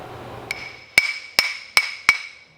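Five sharp metallic hammer blows on the rear differential of a Ford Crown Victoria with a 7.3L Godzilla swap and 3.73 limited-slip, struck at an uneven pace with ringing decay, loud and close, no talking.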